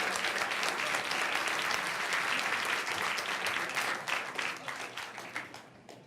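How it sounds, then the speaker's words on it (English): Applause from an audience at a school board meeting, a steady dense clatter of many hands that holds for several seconds, then thins and fades toward the end. "give Destiny a big round of applause"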